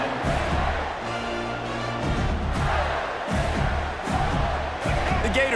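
A stadium crowd in the video game College Football 25 roars with sustained cheering, a dense, loud wash that stays up throughout while a commentator talks over it.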